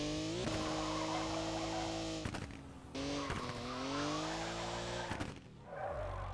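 A drift car's engine roars in the Overdrift Festival racing game, with long tire squeals and rising and falling revs through several slides, loud and close, interrupted by brief gear-shift dips and no talking.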